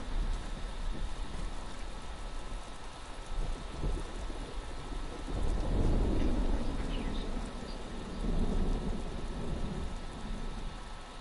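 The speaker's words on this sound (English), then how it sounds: "Wow, you can actually hear that thunder." Thunder rolls in around the middle of a steady rainstorm in the video game The Last of Us Part 3, a low swelling rumble rising over continuous hiss of rain on surfaces, with no voices.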